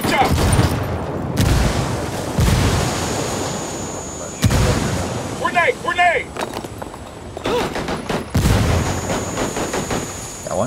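Grenade blasts and rapid gunfire from the Ghost Recon shooter game crack out in several loud, broadband bursts that come close together, with brief lulls of firing between them and a voice speaking intermittently.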